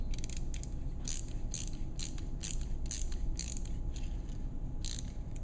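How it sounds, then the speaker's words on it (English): A ratcheting driver on an Acumed Dual Trak surgical implant device, worked into a sawbones bone model, gives a steady series of small, crisp clicks in a quiet room, faint and evenly spaced. "the engineers had the foresight of putting a ratcheting driver"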